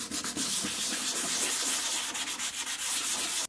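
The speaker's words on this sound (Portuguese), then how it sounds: "Acabei de aplicar a lixa 220" A yellowed, crazed car headlight is sanded by hand with 220-grit sandpaper, a close, continuous abrasive scratching in quick back-and-forth strokes that stops abruptly at the end.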